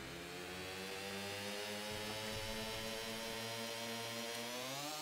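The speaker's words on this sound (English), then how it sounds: "Congratulations, you've made your first functional engine." A game engine built for a submarine, with its starter belt connected, throttled up into a loud, steady, harsh mechanical drone that holds a continuous harmonic whine and rumble throughout, with no talking over it.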